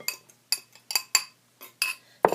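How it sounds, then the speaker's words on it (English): Whisk tapping and scraping against a bowl while mixing banana pancake batter, a series of sharp clinking strokes in an irregular rhythm, close and clear with no talk. "And just mix them in. Use your whisk."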